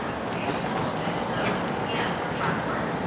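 A train pulls into Union Station in Toronto with a steady, loud rumble and rolling wheel noise throughout, with no one talking over it.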